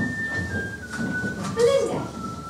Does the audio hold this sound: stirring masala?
no